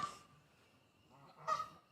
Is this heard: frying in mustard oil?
no